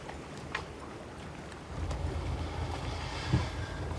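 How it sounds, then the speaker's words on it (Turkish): Sea waves wash steadily on a broad low rumble that swells halfway through, with wind noise and one brief low thump, and no talking. "Dalgaların sesi"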